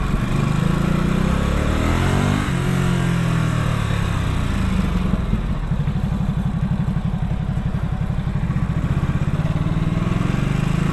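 A Ducati SuperSport S motorcycle engine roars loudly and continuously with a gruff, pulsing exhaust note that rises and falls as it accelerates, close to the rider with wind noise and no talk.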